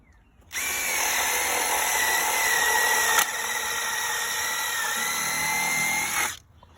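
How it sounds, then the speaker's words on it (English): A power drill whirs steadily for about six seconds, close and loud, with a brief click partway through before it winds down. "I got to put a new hole in there"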